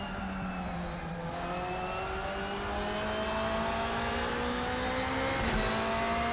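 A race car engine screams under hard acceleration at Brno, a loud, continuous rising whine with tightly spaced harmonics climbing in pitch, and a brief gear shift near the end before the tone rises again.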